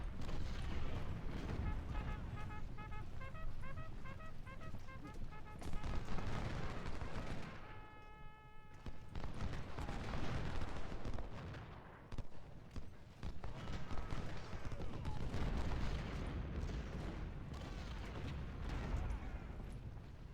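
Union troops fire muskets in a Civil War battle game set at Fredericksburg, a continuous rolling crackle of volleys and booms that stays dense and loud throughout, with a few brief tonal game cues.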